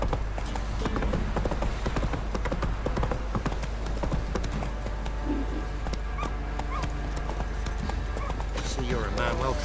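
A horse gallops in The Witcher 3, rapid rhythmic hoofbeats running continuously and fairly loud, with a spoken voice over it and brief whinny-like cries.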